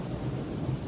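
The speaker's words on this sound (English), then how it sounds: "It's pouring." Heavy rain pours at the New Jersey shore by the ocean while thunder rumbles low beneath a dense, steady wash of falling water.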